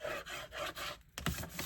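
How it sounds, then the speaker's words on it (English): Double-sided tape on paper being burnished with short, quiet rubbing strokes in a steady back-and-forth rhythm, close up, followed by a slightly sharper scrape. "if you use double-sided tape, that you burnish,"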